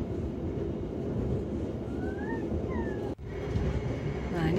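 Sembrani executive train on the Jakarta to Surabaya line, cruising at a little over 100 km/h, heard from inside the carriage as a steady rolling rumble with a few faint squeals and a brief dip midway.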